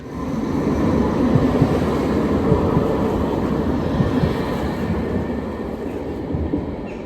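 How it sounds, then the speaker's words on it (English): Steady rumbling of a Utrecht tram in motion, with continuous low rolling noise and faint wheel rattles from inside the car. "that was my first ride on the Utrecht tram."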